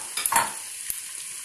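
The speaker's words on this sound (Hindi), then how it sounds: "मैं डायरेक्ट उबले हुए चने डाल रही हूँ" Boiled chickpeas go into a frying pan, giving a brief soft clatter and a burst of sizzling, then a quieter steady fry with one small clink.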